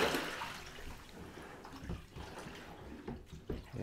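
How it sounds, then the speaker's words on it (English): Soapy water draining out of a bathtub after washing a down quilt or sleeping bag, a faint hissing, gurgling wash of water with small irregular splashes, steady throughout and alone. "we're gonna drain that soapy water out of there."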